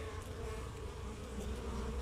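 A honeybee buzzes steadily and close while tugging hard at a spider web, its drone continuous and unbroken with no voices.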